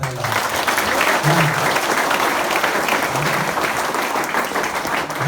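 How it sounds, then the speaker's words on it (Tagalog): An audience at a network business meeting applauds the uplines loudly and steadily. The dense clapping stays constant from start to finish with no pauses. "pwede malakas sa palakpak para sa kanila"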